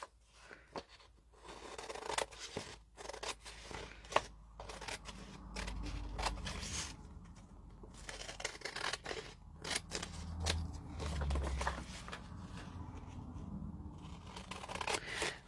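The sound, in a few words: scissors trimming paper for junk journal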